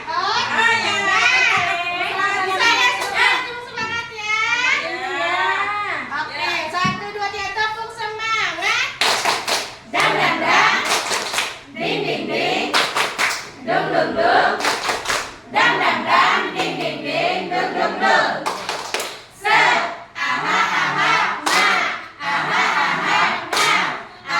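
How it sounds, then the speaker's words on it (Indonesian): A room of teachers joins in a rhythmic group cheer-clap, with dense bursts of many hands clapping together in patterned beats alongside shouting and chanting voices. "Tepuk semangat ya."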